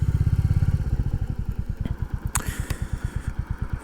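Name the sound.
Royal Enfield Classic 350 motorcycle riding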